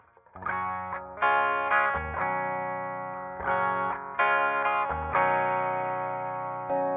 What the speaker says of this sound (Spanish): vamos a empezar con una progresión de acordes muy sencilla en limpio